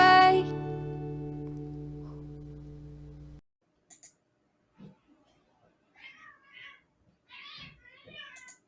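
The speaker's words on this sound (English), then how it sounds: "Sorry, I heard a cat in distress." A cat meowing in distress, several short, thin cries in an otherwise quiet stretch, heard after a sustained musical tone cuts off, with quiet gaps between the calls.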